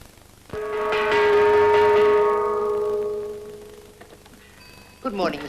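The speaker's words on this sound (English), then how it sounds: "Second gong for breakfast." A single struck breakfast gong rings out loud and close, its shimmering metallic tone swelling and then slowly decaying over several seconds before a brief clatter.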